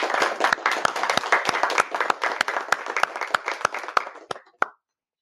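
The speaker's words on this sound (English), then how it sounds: "let's give a round of applause for So-Young." An audience claps together for a guest at the start of a talk, a dense burst of sharp hand claps that thins to a few scattered claps and stops abruptly, with no voices over it.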